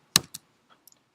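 A few quick keystrokes on a computer keyboard, one sharp pair of taps followed by fainter clicks, close and isolated in a quiet room.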